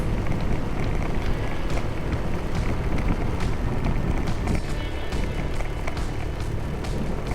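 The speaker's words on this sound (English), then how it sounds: "I feel the wind today. That's a good thing. There's a lot of wind." Strong wind rushing over a microphone during a motorcycle ride in Natividad, Pangasinan, a steady loud broadband roar with buffeting gusts throughout, no talking.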